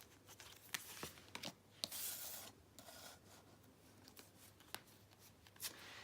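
Tarot cards being shuffled close by: soft papery rustling in irregular bursts, quiet and steady, with no voices.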